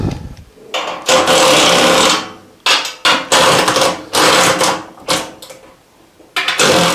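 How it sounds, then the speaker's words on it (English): An electric ratchet drives fasteners while a Brinly lawn sweeper is assembled, giving loud, close whirring bursts that start and stop several times with brief pauses between, and no talking. "It's a good time to break out my electric ratchet."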